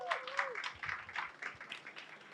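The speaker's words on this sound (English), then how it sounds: "Round of applause for her," Faint applause from a research presentation audience, a light patter of scattered claps at low volume, with a brief tonal squeal at the start.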